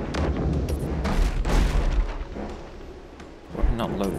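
Cannon fire aimed at ship sails during a naval battle in the video game Abandon Ship: a rapid run of heavy booms and crackling shots, loud and close, with a larger blast near the end.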